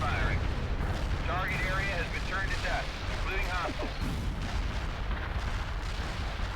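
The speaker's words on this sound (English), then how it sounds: "Artillery barrage turned the target area into dust." A heavy artillery barrage in the World in Conflict strategy game, a steady roar of explosions and rumbling impacts running the whole time at even volume, with radio-style voices speaking over the din.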